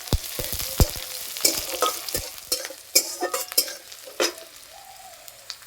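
Chopped onion and whole cumin seeds go into hot oil, with bursts of sizzling and frying. A spoon stirs them in a pan, scraping in an irregular rhythm. No one speaks.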